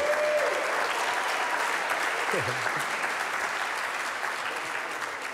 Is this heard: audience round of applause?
yes